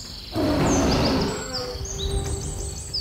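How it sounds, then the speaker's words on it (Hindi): A cartoon lion lets out a single loud roar that swells in suddenly and trails off, backed by rising whistle-like sound effects and jungle ambience. "कुछ देर बाद नरेश को जंगल में शेर की दहाड़ सुनाई दी।"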